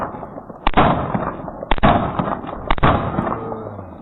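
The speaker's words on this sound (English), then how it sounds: "And he decides to take the shots." Police officer in Columbus firing a handgun: three sharp, loud shots spaced about a second apart, cracking over a steady background murmur.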